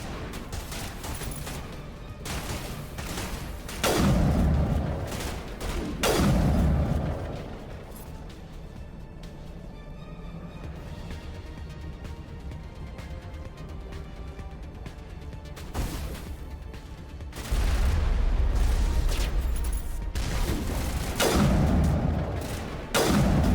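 Gunfire in the video game Mass Effect Legendary Edition: heavy bursts of rapid shots and booming impacts, one burst early on and a longer, louder barrage near the end, with quieter combat ambience between.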